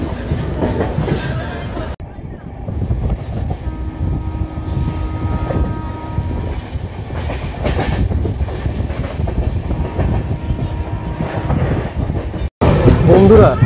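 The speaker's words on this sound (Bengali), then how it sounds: "ট্রেন আমাদের বেরাচ্ছে হাওড়া স্টেশন থেকে" Howrah–Balurghat Express with LHB coaches pulling out of Howrah station, a steady loud rumble of wheels and rail clatter throughout, with faint voices in the background and a brief break near the end.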